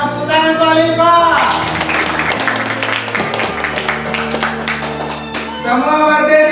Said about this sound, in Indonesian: Tepuk tangan Khalifah.